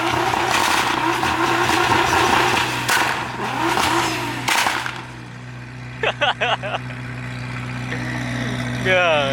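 GTRs and supercars at a car show, loud engines revving and roaring past in succession, then quieter idling with brief chirps and voices in the background.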